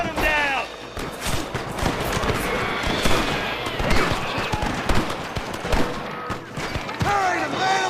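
Rapid gunfire crackles through a Red Dead Redemption shootout, with bursts of shots close and loud amid game noise and shouting voices.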